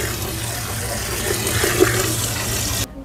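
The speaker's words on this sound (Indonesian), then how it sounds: "Ini kita isi sedikit airnya buat nanti direbus." Water runs steadily into a pot for boiling, a continuous close rushing fill that stops abruptly near the end.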